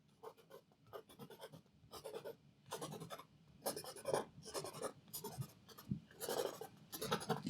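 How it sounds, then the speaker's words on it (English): Flipped paintbrush handle scraping oil paint on canvas in quick, rhythmic strokes, close and dry-sounding, repeated about a dozen times with brief pauses between. "flip your brush and just scrape that"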